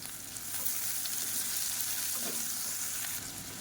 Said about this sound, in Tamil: இது வந்து நல்லா கண்ணாடி பதம் வர அளவுக்கு வதக்கிக்கலாம்